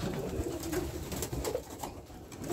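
Pigeons coo in soft, low, repeated calls at close range in a pigeon loft, murmuring continuously over light background noise.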